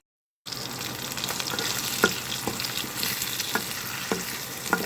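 Steady sizzle of something frying in a pan just before noodles go in, with a few sharp utensil clicks and scrapes at intervals; no voices.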